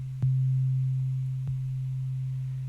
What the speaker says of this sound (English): So now let's have a listen to just phase modulation.